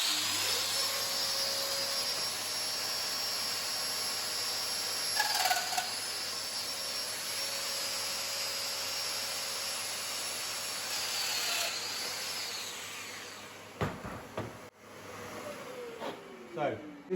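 A Festool Domino joiner cutting a 6mm mortise whines steadily at close range for most of the clip, with a brief dip in pitch midway, then winds down into clicks and handling noises, with talk over it.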